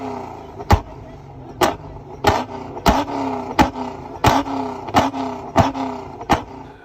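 A modified car engine at a car show, revving and spitting flames in sharp repeated pops and bangs, about eight loud bursts roughly a second apart over a steady engine rumble.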